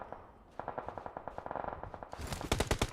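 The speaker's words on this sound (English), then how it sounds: "The moment you turn your back on Rosemary, he's going to shoot you." Automatic weapon fire from the mobile battle royale game PUBG Mobile during a competitive esports match, rapid bursts of shots, distant at first, then a louder, closer volley at the end.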